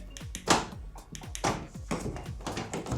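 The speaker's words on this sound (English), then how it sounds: "If I did the same thing and I double lock it" A VW T7 Transporter van's door being double locked: a quick series of sharp mechanical taps and clunks, several close-up clicks and thumps in a short burst.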